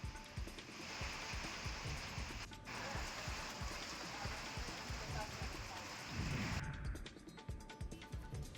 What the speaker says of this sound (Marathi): विजांच्या कडकडाटासह ढगांचा गडगडाट पाहायला मिळाले